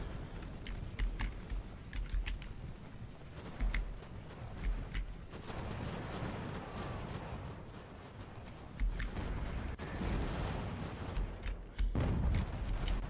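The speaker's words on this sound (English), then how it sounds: "Look at all the shelling on the ground." Artillery shelling on a battlefield in the naval strategy game Ultimate Admiral Age of Sail, with scattered booms and crackling fire over a steady low rumble, growing louder and denser toward the end.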